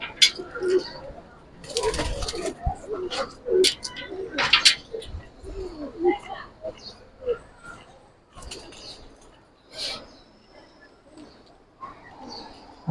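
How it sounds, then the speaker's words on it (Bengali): Giribaz pigeons of an old pure line, kept with their young, coo in soft low repeated bursts up close, with scattered flutters and chirps and people talking at intervals throughout. "এগুলো অনেক পুরান লাইনের কবুতর"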